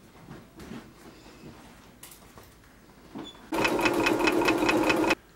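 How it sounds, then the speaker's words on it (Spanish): A sewing machine stitches a fabric buff, starting after some faint handling noises with a fast, steady mechanical whirring run of about two seconds, close and loud, then stopping abruptly. "me voy a coser y enseguida vengo"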